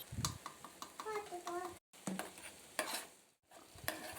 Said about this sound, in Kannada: ಒಗ್ಗರಣೆ ಹಾಕಿ ಈರುಳ್ಳಿ ಟೊಮೆಟೊ ಫ್ರೈ ಮಾಡ್ತಿದ್ದೀನಿ